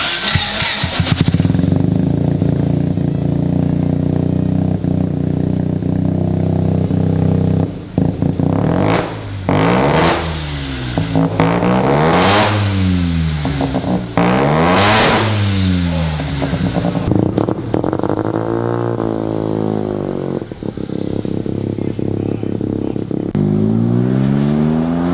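A 650cc Mazda single-rotor engine revs repeatedly in loud rising and falling sweeps, each pull ending in a sharp blow-off valve hiss, before settling to a lower drone near the end.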